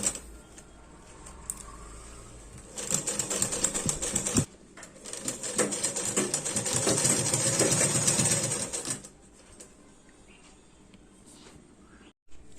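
A sewing machine stitches around the edge of handmade winter socks in two loud, rapid whirring bursts separated by a brief pause, with quieter handling sounds before and after.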